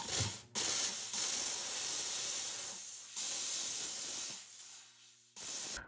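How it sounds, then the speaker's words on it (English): A steam cleaner blasts a jewelry ring with loud, steady hissing jets in several bursts, with short pauses between them, and no talking. "Now we're going to steam the ring."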